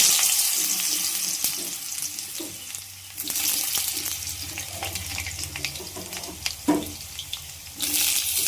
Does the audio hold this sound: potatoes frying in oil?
yes